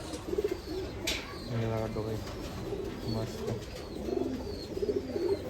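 Imported UAE racing pigeons coo in low, rolling phrases that repeat throughout, fairly close, with someone talking over them and a brief sharp noise early on.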